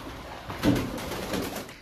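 Pigeons coo softly in a room of an abandoned pub in Sheffield, a low throaty call rising once near the start over a hushed, echoing background.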